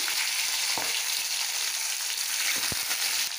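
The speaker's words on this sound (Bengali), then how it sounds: "আর এখানে কাটা যে পেঁয়াজ ছিল এটাকে ফোড়ন দিয়ে দিচ্ছি।" Chopped onion and kalonji seeds fry in hot oil in a wok, giving a loud, continuous close-up sizzle with a few sharp pops and spatters scattered through it, and no voices.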